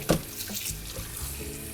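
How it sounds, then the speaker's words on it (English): Tap water runs steadily into a bowl of sliced potatoes being rinsed for homemade Old Bay chips, a continuous close splashing flow with no talking. "I like to run the water until it's clear"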